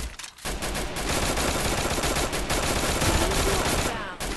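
Dense, continuous automatic gunfire from a machine gun in the mobile battle-royale game Free Fire, a loud sustained burst of rapid shots running almost the whole time after a brief gap at the start.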